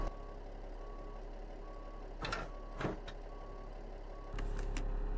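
Steady reversing beeps from a truck backing up to hook up a trailer in Truck World Australia, with a low diesel idle beneath, a couple of short air hisses and the engine rising near the end.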